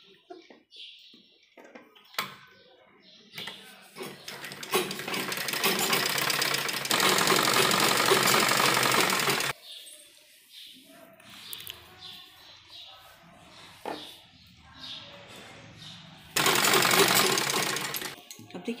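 A sewing machine stitches pieces of an A-line baby girl frock for a one-to-two-year-old, running in two long steady whirring bursts with stops between, a quiet close mechanical hum, while someone speaks during the pauses.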